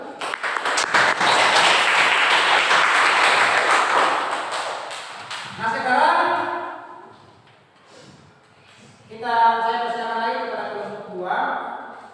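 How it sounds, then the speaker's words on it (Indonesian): A group claps for the first presenting team at a classroom performance assessment, sustained loud applause for several seconds that fades out, followed by voices speaking. "kita berikan aplaus kepada kelompok 1?"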